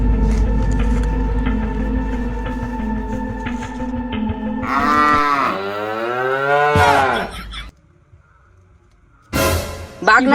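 A cow gives a long, loud, close moo, then follows with more drawn-out moos that rise and fall in pitch, ending with a short loud burst after a brief pause.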